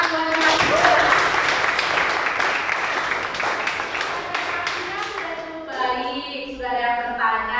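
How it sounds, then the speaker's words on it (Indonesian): A classroom applauds students after their presentation, a lively patter of clapping hands that fades toward the end as a voice speaks over it. "Tepuk tangan buat"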